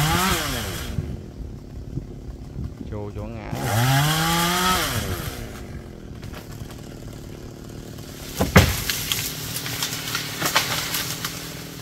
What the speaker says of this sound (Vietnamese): Cưa đó là cưa mở miệng đó các bạn ơi.